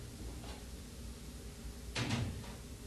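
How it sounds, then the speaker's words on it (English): The top control panel of a tumble dryer is unlocked and pulled off, giving a single brief clack and scrape of metal panel against a faint steady background hum, with no talking. "Unlock and remove the top control panel."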